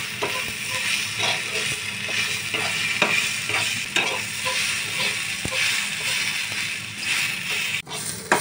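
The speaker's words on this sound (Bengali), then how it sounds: "পাকা কুঁদলি ভাজা হয়ে গেছে," Ripe ivy gourd frying in a pan with white sesame seeds, a steady close sizzle of oil broken by repeated scraping and stirring strokes of a spatula, with no talk.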